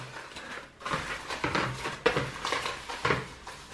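Paper giveaway lottery slips shaken in a container, a soft irregular rattling and pattering in short bursts, fairly quiet and close.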